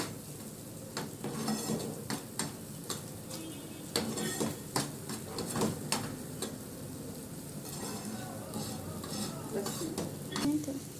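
Greens and tomatoes fry in a pan for a taro dish with a soft, continuous sizzle, broken by frequent sharp clicks and scrapes of a utensil stirring against the pan, close and fairly quiet.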